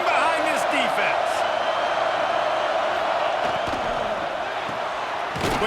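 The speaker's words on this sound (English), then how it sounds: "this crowd is getting behind this defense" A big stadium crowd roars in the College Football 26 video game during a third-down defensive stand in the red zone, Rutgers against Ohio State, a dense sustained wash of cheering with a commentator's voice over it.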